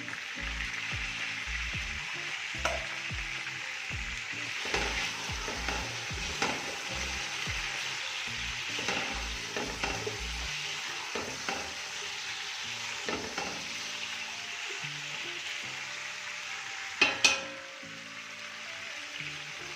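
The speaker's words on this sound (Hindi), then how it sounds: "इसको हिलाते रहना है ताकि प्याज हमारे किसी साइड पे जल ना जाए।" Onions with a little salt frying in a pot for chicken yakhni moti pulao, a steady soft sizzle with repeated rhythmic knocks and scrapes of a spoon stirring, the tapping stopping midway as the frying continues alone.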